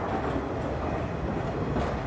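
A container train hauled by 382 class locomotives passes close by, giving a steady, dense rumble with faint wheel clatter that stays even and continuous throughout.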